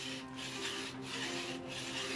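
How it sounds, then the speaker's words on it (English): Handsaw cutting through stone for an inkstone in a traditional workshop: a steady, gritty rasping with slow rhythmic strokes, the pull swelling and easing about three times, fairly quiet and unaccompanied by voices. "He does this the traditional way. No chainsaws or power tools, just physical force and a handsaw."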